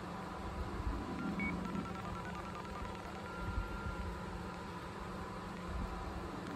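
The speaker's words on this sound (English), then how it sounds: "I'm gonna let you listen to the report on this phone." Contact ID report tones from an Ademco alarm panel sent over a phone line to an Ademco 685 digital receiver, a steady stream of dialing-style tones over constant hum and background noise.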